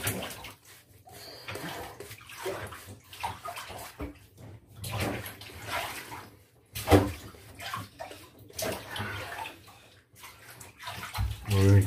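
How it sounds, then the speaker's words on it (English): Shaving soap being lathered on a face with a brush, giving a continuous wet swishing and squelching with soft slosh-like bursts, close and moderately quiet, no talk. "As I'm lathering the soap on my face."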